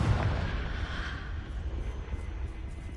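In the video game Hogwarts Legacy, a Confringo spell explosion opens with a heavy booming burst, then rolls into a dull, fading rumble that lasts several seconds, with no one speaking.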